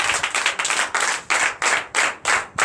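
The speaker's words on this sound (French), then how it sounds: "Donnez l'acclamation à Jésus." A small church congregation at a Sunday service claps rhythmically in a brisk, steady beat, fairly close and loud, with no talking.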